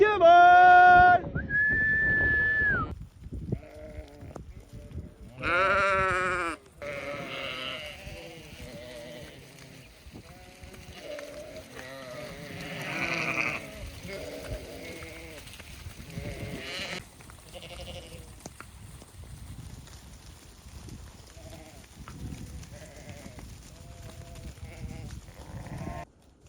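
Pregnant ewes on a farm bleat repeatedly and loudly close by in the weeks before lambing, with several overlapping calls that become fainter and scattered later on.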